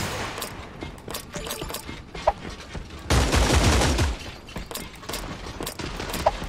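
Bursts of gunfire from the Creative Destruction shooter game crackle throughout, with a louder, dense volley of rapid shots around the middle and sharp single cracks scattered before and after, no talking.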